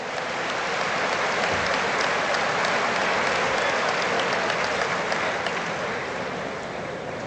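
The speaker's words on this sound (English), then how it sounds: "So give yourselves again a warm round of applause." Sustained applause from a large church crowd, a dense steady wash of clapping that fills the whole stretch and eases slightly near the end.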